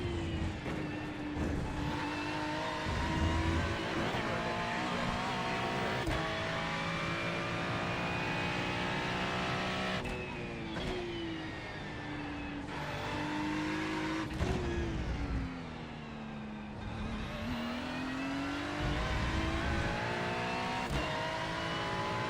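Race car engines roar continuously in the iRacing IMSA sim, revving up and down through gear changes with sharp cuts between shifts, loud and close throughout with no talk.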